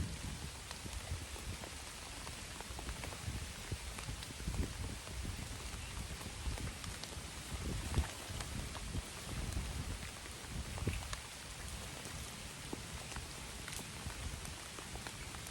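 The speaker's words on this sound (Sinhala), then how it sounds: "හයියෙම වහිනවා" Steady heavy rain pours down on Pansal Gala temple rock, a dense continuous hiss with scattered louder drips and patters on nearby surfaces, no voices.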